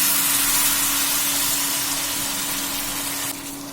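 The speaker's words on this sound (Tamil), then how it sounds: "நம்ம இப்ப இந்த கொதிக்கிற தண்ணி எடுத்து இதுல ஊத்திடலாம்" Boiling water is poured into roasted rava in oil for rava kesari, a steady loud hissing gush with a constant hum that continues for several seconds before easing slightly.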